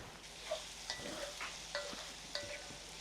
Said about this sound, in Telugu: ఎంత సిమ్లో పెట్టినా కానీ, ఆయిల్ తక్కువ వేసినా కానీ ఫ్రై స్టార్ట్ అయింది చూసారా?